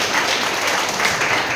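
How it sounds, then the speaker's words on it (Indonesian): A church congregation breaks into dense, lively applause after a Sunday sermon, a continuous wash of many hands clapping together with no voices over it. "Kasih tepuk tangan yang meriah"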